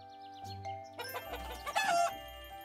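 Chickens clucking in the farming video game Harvest Island, with a few short, quiet clucks and a crow-like call set against bright in-game music chimes.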